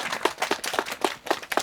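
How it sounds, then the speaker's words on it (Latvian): Clapping from a church congregation, a short burst of irregular hand claps, fairly close and moderately loud, lasting under two seconds with no talk over it. "Aplausī!"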